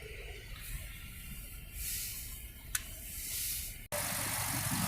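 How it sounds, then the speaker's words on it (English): Toyota Land Cruiser with a 4.8 liter engine idling nearby, a steady low rumble with faint hissing on top, one sharp click, then a brief dropout and a louder return. "Okay, so the motor sounds great."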